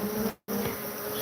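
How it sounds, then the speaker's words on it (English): A swarm of Africanized honeybees buzzes at a hive, producing a dense, continuous hum that cuts out for a brief moment and then resumes just as thick. "they're honeybees, but they're killer bees. They're Africanized."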